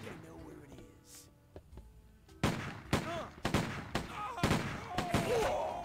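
Gunfire in the video game Stubbs the Zombie, a burst of loud, sharp shots arriving in quick irregular bursts after a quieter stretch with faint game tones.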